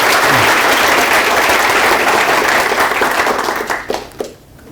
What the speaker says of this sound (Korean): 이번에 크게 박수 쳐요.